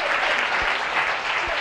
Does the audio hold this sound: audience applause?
yes